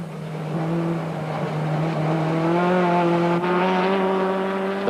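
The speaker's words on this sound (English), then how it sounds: "Race cam action from the inside of the cockpit of the dealer team Toyota Conquest" In-cockpit engine of a dealer team Toyota Conquest racing in the 1993 Wesbank Modifieds at Killarney, a loud sustained drone whose pitch climbs steadily as the car accelerates, with a brief gear-change dip.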